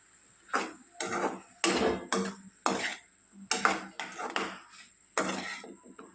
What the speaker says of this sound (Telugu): తగినంత కారం తగినంత పసుపు రుచికి తగ్గ ఉప్పు అన్నీ వేసి బాగా కలుపుకోవాలండి